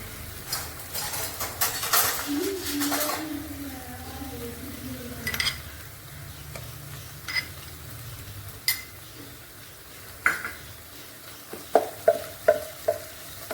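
Ginger-garlic paste sautéing with softened onion and tomato in a pan for a chicken roast: a soft, steady sizzle with spatula scrapes and stirring early on, then sparse light clinks of utensil on pan toward the end.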